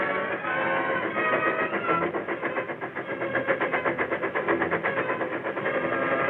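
A steady mechanical rumble with a fast rhythmic clatter builds and holds, like a train rolling along nearby, from a 1936 film.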